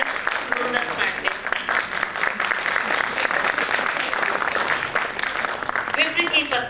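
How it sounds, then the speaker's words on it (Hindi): An audience claps loudly and continuously to welcome performers at a stage play. Dense applause carries through the whole stretch, with voices audible underneath. "दर्शकों से अनुरोध हो कि हमारे कलाकारों का जोरदार तालियों से स्वागत करें"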